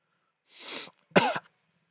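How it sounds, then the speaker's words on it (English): A man gives two coughs, a drawn-out rasping one followed by a sharper, throaty cough, close to the microphone in an otherwise quiet room. "I'm really trying to cough up something right now"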